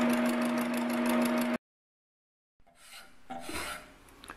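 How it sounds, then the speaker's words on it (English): Hand filing and scraping of metal while shaping a garden spud made from a spring: a steady, loud rasp with an engine-like hum beneath it, then sudden silence, then rougher scraping strokes resume. "So after a lot of filing and scraping, you just scrape"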